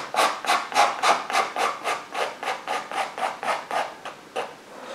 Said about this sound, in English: Very gently, look, just very gently scraping that.